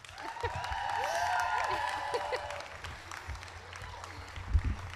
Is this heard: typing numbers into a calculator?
no